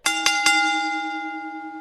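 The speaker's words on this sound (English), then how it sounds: "There was the bell." A wrestling ring bell at the opening of a match rings three quick metallic clangs, then a bright sustained tone that slowly decays, loud and close with no voices over it.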